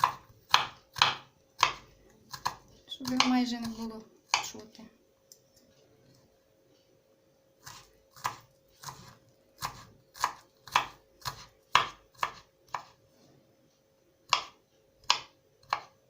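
Garlic is finely chopped with a knife on a board, giving a series of sharp, crisp taps in uneven bursts, close and clear. A voice speaks briefly between the cuts.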